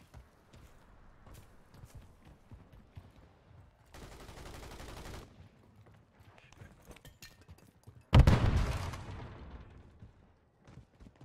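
Gunfire in a Call of Duty match: a sustained burst of automatic fire, then a louder, closer shot that rings out, with footsteps and light movement scattered through quieter stretches.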